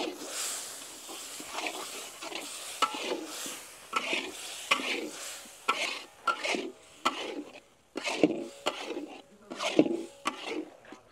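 Tomato paste sautéing with spices for a South Indian brinjal curry, close irregular scraping and stirring strokes over a soft sizzle, coming in uneven bursts with short pauses between them.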